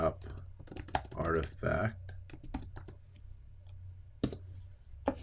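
Rapid clicking keystrokes on a computer keyboard come in short bursts and scattered single taps, close and clear, while a person talks over parts of it.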